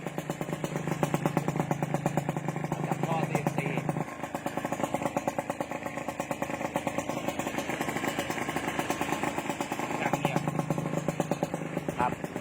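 A Kawasaki KR150 Serpico two-stroke motorcycle engine with DBS exhaust and round carburetor idles close by, a steady rattling putter that runs continuously, dipping slightly in pitch partway through before settling back.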